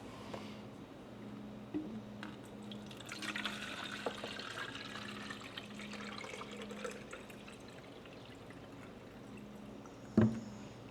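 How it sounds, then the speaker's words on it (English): Water pours from one bottle into another, a soft steady trickle and gurgle held low under a background hum, ending with a brief clunk. "I'm gonna take this bottle, I'm gonna pour it into this one"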